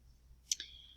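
A computer mouse gives a quick double click while someone edits text on screen, two sharp, close, faint clicks about a tenth of a second apart against near silence.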